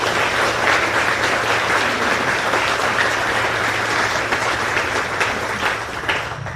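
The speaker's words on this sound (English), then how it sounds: "Please join me in a round of applause." Sustained, dense applause fills a military change of command ceremony for an air defense artillery brigade, a large crowd clapping steadily and loudly throughout with a faint low hum underneath.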